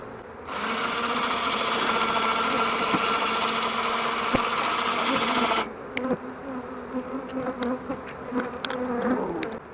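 Honey bees swarm around an open hive in a dense, loud, continuous buzz that thins after a few seconds into scattered nearby wingbeats and passing individual bees.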